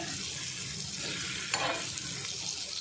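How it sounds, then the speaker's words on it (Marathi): Raw green mango and dried shrimp are stirred and sautéed on a hot griddle, giving a steady close sizzle with a brief scrape of the spatula midway. No voices. "आणि ही कैरी आता हे व्यवस्थित परतून घेऊया"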